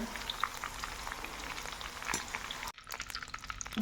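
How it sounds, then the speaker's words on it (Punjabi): Cauliflower frying in hot oil in a pan for a mixed fried vegetable sabzi, with a steady close sizzle and crackle that briefly drops out near the end before resuming. "ਲਾਸਟ ਵਿੱਚ ਆਪਣੇ ਕੋਲ ਗੋਭੀ ਰਹਿ ਗਈ ਆ ਤੇ ਇਹਨੂੰ ਵੀ ਆਪਾਂ ਹੁਣ ਫਰਾਈ ਕਰ ਲਾਂਗੇ"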